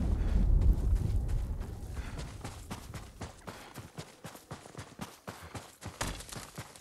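A horse's hooves clip-clop in the Ghost of Tsushima video game, starting under a low rumble and growing into a clear, rapid, rhythmic string of hoofbeats close by.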